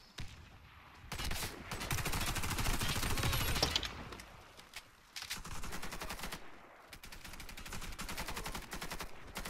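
Rapid bursts of ACR CQB rifle fire in the shooter game Warface, loud sustained automatic strings broken by short pauses, with little else audible.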